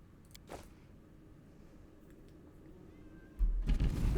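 A cat meows in the Pathfinder: Wrath of the Righteous video game, a brief, faint call over a quiet background before a louder burst of sound at the end.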